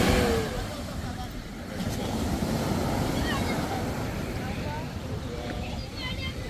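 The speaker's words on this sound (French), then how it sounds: "Il y a des grosses vagues" Large ocean waves crashing and washing continuously onto shore, a loud, dense roar with wind buffeting the microphone throughout.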